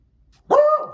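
A single sharp, close dog bark rings out indoors after a moment of near silence, with no voices around it.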